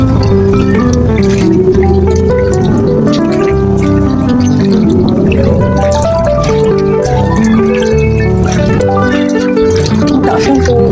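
Monsoon flood water, a loud continuous wash of splashing, dripping and pouring with busy irregular texture throughout, close to the microphone.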